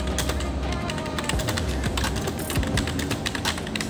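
Someone types steadily on a mechanical keyboard, a dense run of crisp, rapid key clacks at close range, loud and unbroken for the whole stretch.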